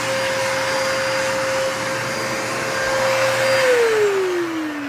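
A Bissell vacuum cleaner runs with a loud, steady motor whine and airflow rush, holding one pitch before the tone slides downward near the end as the motor changes speed, with no talking.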